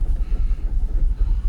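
Jaguar XKR X100 V8 idling in gear with a suspected cam sensor fault, a steady low rumble with slight pulsing, close and continuous, with no talking.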